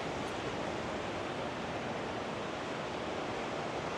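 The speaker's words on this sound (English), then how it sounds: "I hope you can hear the ocean more loudly down here." Steady broadband roar of surf, continuous and fairly loud, with no distinct breaks or other sounds standing out.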